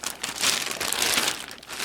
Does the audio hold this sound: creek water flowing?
no